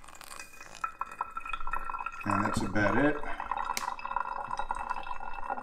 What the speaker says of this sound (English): that noise you're hearing is the pour over actually working